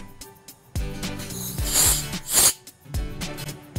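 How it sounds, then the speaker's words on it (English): Several short hissing sprays of cleaner from an aerosol can into an RC carburetor, close by, mixed with clicks and mechanical rattling between bursts. "So you wanna start off by spraying the inside of the carburetor."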